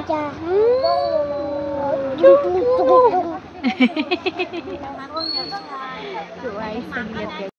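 A voice makes wavering, rising and falling trumpet-like calls imitating an elephant, followed by quick choppy vocal bursts, close and fairly loud.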